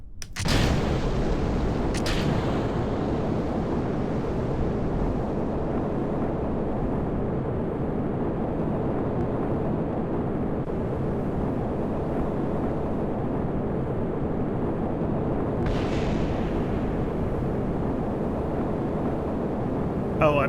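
A rocket engine fires at launch in Kerbal Space Program with the RP-1 mod, a steady, dense rushing roar after a sharp onset, with a couple of brief crackling bursts and a later pop along the way.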